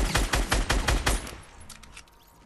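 Rapid gunfire in the battle royale game Fortnite: a burst of about seven sharp, loud shots in quick succession, then a fading tail and quieter scattered game sounds, with no talking.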